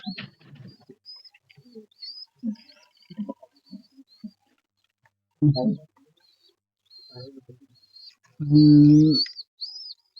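Maddas pigeons kept as pets give soft cooing calls and faint chirps in scattered short bursts, ending with one louder, fuller coo up close, with quiet gaps between the calls.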